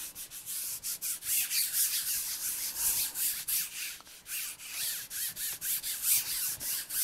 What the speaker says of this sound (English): And rub well, make sure you've got the corners.